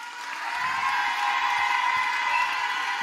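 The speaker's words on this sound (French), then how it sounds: "Un grand applaudissement pour ces jeunes" An audience at a church youth group's 30th-anniversary celebration applauds the young people. The clapping rises quickly and then holds as a dense, even wash.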